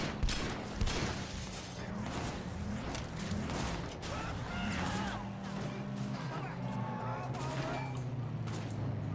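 Gunfire bursts out in the Sleeping Dogs: Year of the Snake video game, repeated sharp shots and volleys close up, mixed with clattering mechanisms and a voice talking over them.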